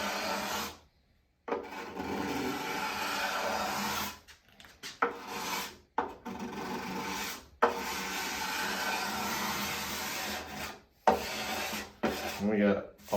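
Steel scraper dragged over wooden acoustic guitar sides in long, raspy strokes, close and loud, with short pauses between passes.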